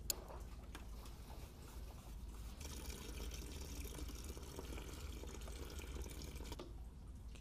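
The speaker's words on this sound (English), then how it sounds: "we'll loosen one of these clips and then just drain everything out into a bucket" Coolant drains steadily from a loosened hose on a MINI Cooper into a bucket, a continuous trickling, splashing flow with faint drips, close and alone without talk.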